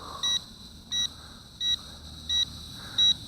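Five short, high electronic beeps at a steady, even interval, each clear and identical, from an Eachine E53 foldable FPV drone, with a faint hum in the background.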